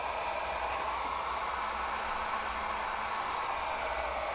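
A Wagner Furno 500 heat gun runs on its high heat setting, giving a steady, even fan-and-air hiss that holds at one level the whole time with no talk.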